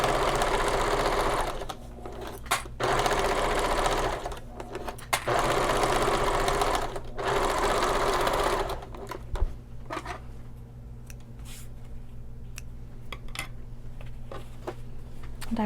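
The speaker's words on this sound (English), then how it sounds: "I will sew together one of the lining pieces and one of the exterior pieces" A sewing machine stitches lining and exterior pieces of a shoulder bag together in steady bursts of rapid mechanical whirring, separated by short pauses, then settles into a quieter, lighter run toward the end.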